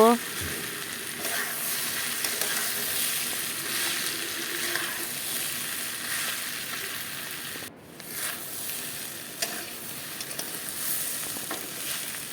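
Potatoes frying in a pan until reddish, a continuous close sizzle with faint stirring scrapes and occasional clinks running throughout, moderately quiet and free of talk.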